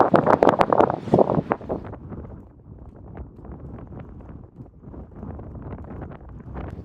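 Strong wind in Orkney buffets and roars across the microphone, loudest in the first couple of seconds, then settling into a steady gusty rumble with occasional thumps.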